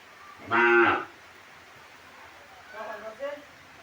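A dairy cow on a farm gives one loud, nearby moo, followed a couple of seconds later by a quieter, shorter lowing call.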